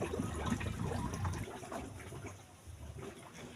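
Steady running water splashes and gurgles close by, a continuous wash of noise that eases slightly partway through.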